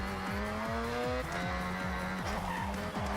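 A Mazda RX7 drifts in Forza Horizon 6, its engine revving hard with repeated gear shifts and rhythmic rising and falling pitch while tires squeal continuously underneath.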